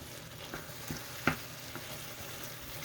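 Tomato paste and ground beef being stirred in a pan for a crepe filling, a quiet steady sizzle with a few soft scrapes and one sharper clack of the utensil against the pan.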